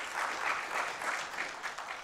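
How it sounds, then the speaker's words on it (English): Audience applause at a live comedy-style talk, a steady wash of clapping that holds at an even, fairly full level for about two seconds with no voices over it. "thank you for the applause"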